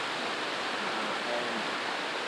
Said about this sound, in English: looking up at the beautiful waterfalls.